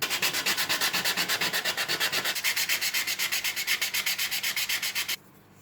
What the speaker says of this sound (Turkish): Şimdi daha ince bir zımparaya geçelim.